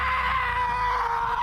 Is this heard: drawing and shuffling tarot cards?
no